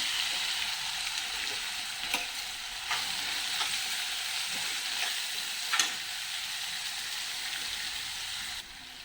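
Garlic and onion fry in a pan, giving a steady, even hiss of sizzling oil. A few brief clicks of a utensil break the sound, and it stays close and moderately quiet without speech.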